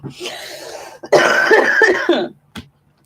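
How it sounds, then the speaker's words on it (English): A person coughing close by, a short cough followed by a longer harsh throat-clearing cough fit and a final small cough, with no speech. "Excuse me for all my coughs."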